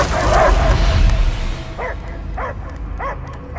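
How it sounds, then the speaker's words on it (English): Dog barks in the Guardians of the Galaxy video game, several short yips at moderate distance that follow a loud rumbling roar, with game background noise underneath. "I hear only barking."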